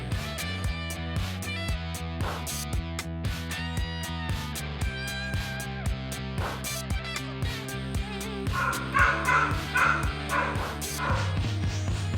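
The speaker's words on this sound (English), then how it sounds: "He just will not stop barking" A dog indoors barks repeatedly in quick, regular yaps that keep going without pause, close and fairly loud, with a few sharper, higher yips near the end.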